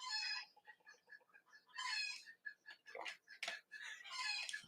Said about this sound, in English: There's so many chickens out there.